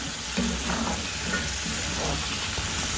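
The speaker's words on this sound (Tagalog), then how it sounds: "Hayaan nyo po muna siya na maprito hanggang sa ma-toasted or ma-crispy yung pinakatagiliran niya" Camote sweet potato fries frying in hot oil, a dense, steady crackling sizzle close by throughout, with no talking.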